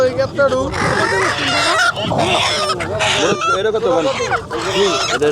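Chickens and roosters at a market fowl stall, loud overlapping clucking and squawking close by, with people talking and bargaining over the birds.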